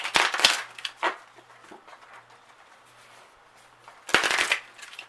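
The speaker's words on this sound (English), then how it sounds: "Split the deck in half again, shuffle one half at a time" A tarot card deck shuffled in split halves gives two loud bursts of riffling, papery flutter, one at the start and one near the end, with quieter handling in between.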